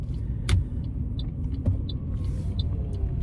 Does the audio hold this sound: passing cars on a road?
yes